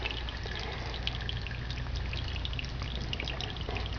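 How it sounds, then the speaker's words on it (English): Water pours down inside an apartment like a small indoor waterfall, a continuous splashing, trickling flow that stays steady and fairly close throughout, with no talk. "Right back to the waterfall."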